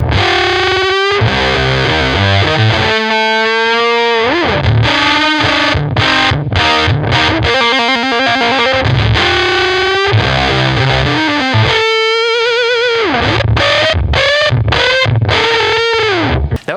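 Heavily fuzzed electric guitar through a Big Muff fuzz pedal, thick and saturated with long sustaining notes and chords, loud and continuous throughout with no voices.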